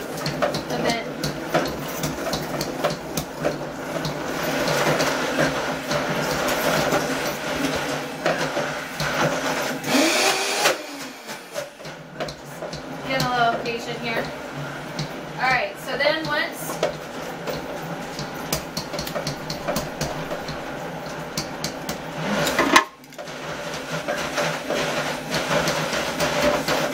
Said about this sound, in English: You gotta love a high-powered blender for this type of event.